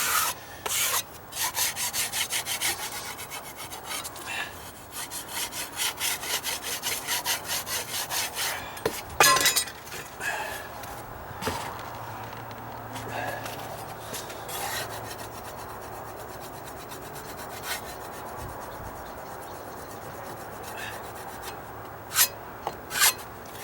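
A tool scraping and rasping along the dry-rotted edge of a wooden deck stair outdoors, continuous gritty rubbing strokes close up, heavy at first then thinning to scattered scrapes and knocks.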